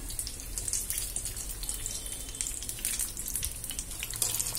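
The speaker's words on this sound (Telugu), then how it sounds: "చూసారా ఇలా బజ్జీ వేసుకోవాలి బజ్జీ వేగుతున్నాయి" Mirchi bajji, batter-coated chili fritters, frying in hot oil with a continuous close crackling sizzle and scattered bubbling pops.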